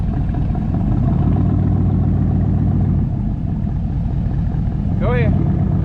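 A four-wheeler ATV engine runs loudly and steadily up close with a rough, continuous drone while it breaks the bead on a tire and rim, and a short whistle-like sweep rises near the end; voices talk over it.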